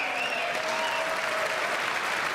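Steady applause from an audience at a political address, a dense even clatter of many hands clapping continuously at a moderate distance, with no voices on top.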